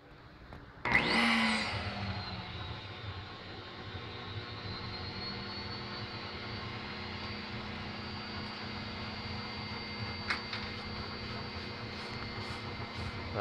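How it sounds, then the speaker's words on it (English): A homemade wet scrubber for an electrostatic precipitator setup runs with a steady, loud whirring drone after an abrupt start, holding level for the rest of the clip, with a couple of faint clicks late on. "The wet scrubber is running."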